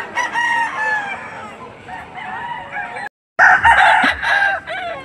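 A young yellow-legged stag rooster crows several times up close, loud drawn-out calls broken by a brief gap, with no talking over it.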